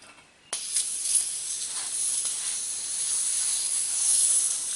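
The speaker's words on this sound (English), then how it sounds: "I am actually going to take and bleed the air out of it." Air rushes out of an open tire valve as the tire is bled during a manual tire change, a loud, close, continuous hiss that starts abruptly and holds steady throughout.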